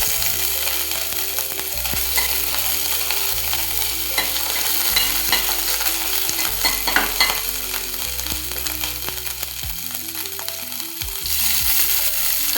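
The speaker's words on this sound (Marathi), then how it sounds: "मिरचीचे बारीक तुकडे, मधून कापलेली मिरचीचे तुकडे हे परतून घेऊ चांगलं." Chillies, onion and ginger-garlic paste sizzle loudly in hot oil for Manchurian gravy, with a steady frying hiss and repeated scraping stirs against the pan, close and continuous without talk.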